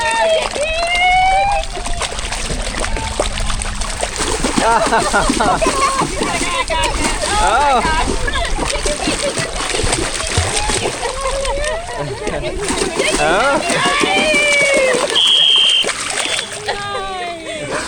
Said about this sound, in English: Do y'all want to be splashed by the dolphins?